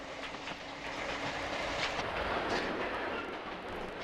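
A southbound Bakerloo line train at Willesden Green rumbles past steadily, with a continuous broad roar of wheels on track and a faint tonal hum.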